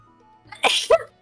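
A single short, sharp sneeze, close and fairly loud, with a quick inhale before it.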